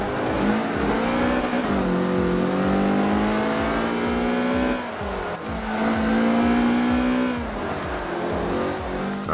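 Mazda MX5 Cup race car in Forza 5 on a circuit, its engine revving hard and climbing through gears with loud whining pitch, brief dips at shifts and some tire noise, close and continuous with no talk.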